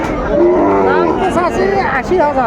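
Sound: Sahiwal breed bull calf mooing at cattle market

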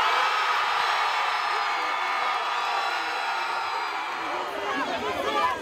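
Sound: crowd cheering for a DJ

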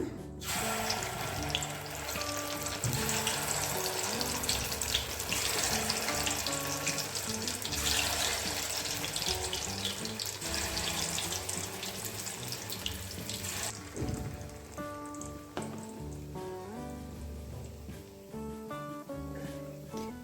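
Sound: jackfruit fritters frying in a pan on low flame

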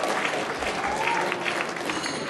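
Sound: audience booing at an awards event

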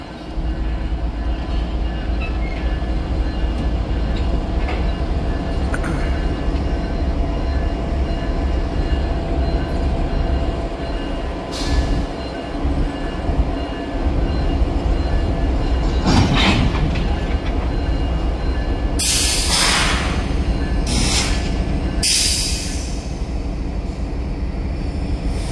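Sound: CSX freight train M561 with locomotives passing

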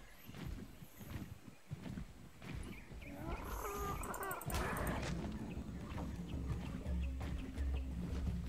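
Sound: dog in the video game ARK

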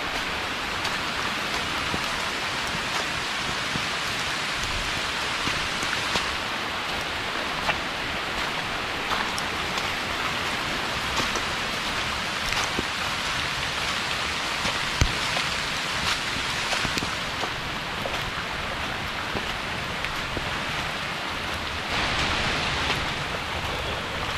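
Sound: rain falling in a forest

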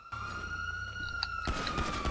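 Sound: police car sirens in the video game GTA 5 Online

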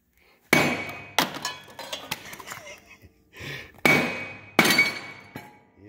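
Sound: tapping a zero turn mower deck spindle to loosen it

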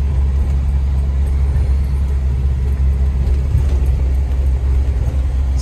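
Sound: stock 1995 Jeep Wrangler YJ driving on snow

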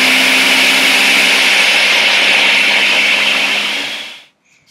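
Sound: blender pureeing soup

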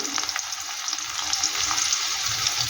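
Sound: onion frying with black cumin tempering

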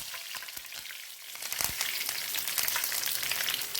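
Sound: curry leaves sizzling in hot oil

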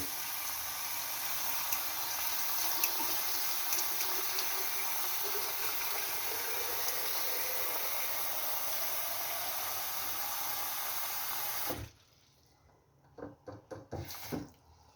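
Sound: filling a jar of tomatoes with cold water

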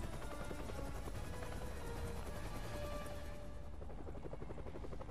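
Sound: helicopter in the video game Marvel's Spider-Man PS4

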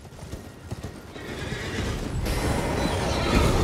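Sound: horse neighing in the video game Elden Ring

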